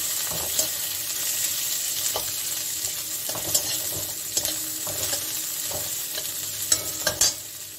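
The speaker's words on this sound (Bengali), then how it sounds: "একসঙ্গে আমি এটাকে একটু ভেজে নেব" Green chillies, ginger and garlic fry together in a pan with a continuous crackling sizzle, broken by repeated scraping stirs of a spatula at close range.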